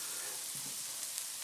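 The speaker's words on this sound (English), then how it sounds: "Onions and bacon frying up," Bacon and onions sizzle in a frying pan with a steady, dense hiss throughout, close and even, with a few faint pops and no talking.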